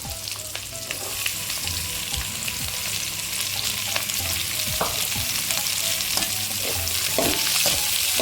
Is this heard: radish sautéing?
yes